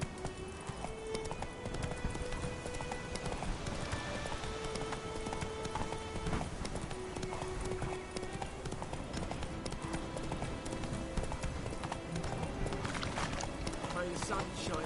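Roach, the horse in The Witcher 3: Wild Hunt, gallops in a fast, steady run of hoofbeats kept up throughout, under game music and ambient sound, with voices talking.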